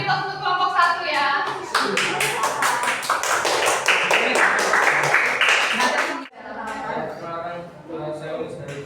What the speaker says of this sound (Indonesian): Ya, beri aplaus untuk kelompok 1 ya.